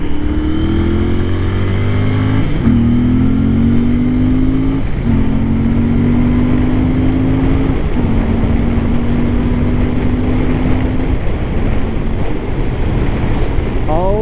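A Royal Enfield Continental GT 650 motorcycle engine fitted with a DNA air filter drones steadily while riding in first gear, its pitch rising and dropping through gear changes under heavy wind noise.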